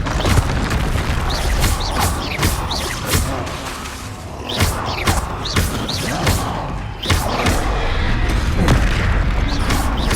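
In Hogwarts Legacy, Confringo blasting spells go off amid constant combat noise, producing a series of booming explosive thuds and whooshes over a loud, dense battle din.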